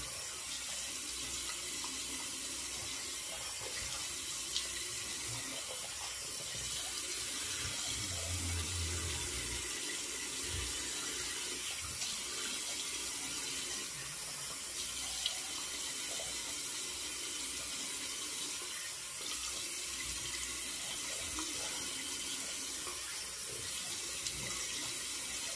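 Tap water running steadily into a sink to rinse a blade, a soft continuous splashing stream with faint clinks, close and without talk.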